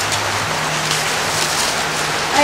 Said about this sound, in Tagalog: Halimbawa po ngayon, umuulan.